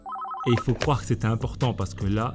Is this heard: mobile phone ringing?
yes